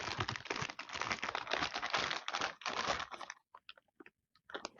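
A bag of grilled-kebab-flavoured potato chips is torn open and handled up close, giving about three seconds of dense, loud crinkling and crunching, then a few scattered crackles.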